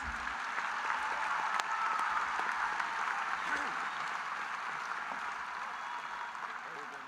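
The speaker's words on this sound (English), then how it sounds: "how about a round of applause for Dr. Barker reading all the names?" Many hands clap in steady, sustained applause across a large graduation ceremony audience, a continuous dense patter that stays level throughout with no voices standing out.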